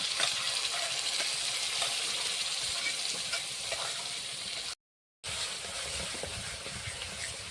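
Spice paste cooking down with sour yogurt in a pan for a small-prawn malai curry, giving a steady close sizzle with light stirring scrapes, continuous apart from a short break of silence.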